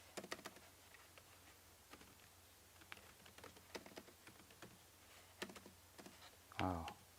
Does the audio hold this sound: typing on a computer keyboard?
yes